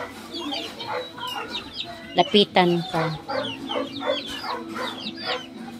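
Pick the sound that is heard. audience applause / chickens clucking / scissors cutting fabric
chickens clucking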